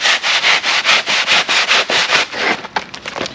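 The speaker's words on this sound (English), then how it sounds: "you wanted to trim that off, believe it or not, you can use something as simple as a handsaw" A handsaw cuts through a foam boat stringer in steady back-and-forth strokes, about a dozen rasping passes close up, then a few shorter, choppier strokes at the end.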